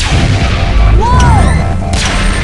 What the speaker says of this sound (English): Watch out! They're shooting at us!